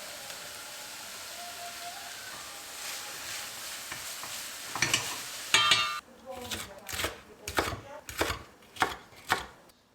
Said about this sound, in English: Going to saute the onions first, and then we'll add a couple of green peppers